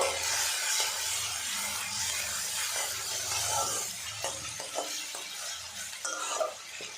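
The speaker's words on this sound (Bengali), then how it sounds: "পেঁয়াজটা কিছুক্ষণ নাড়াচাড়া করে ভেজে নেব।" Onion paste being stirred and fried in a pan, a soft continuous sizzle with occasional clinks and scrapes of a utensil against the pan, fairly quiet and without talk.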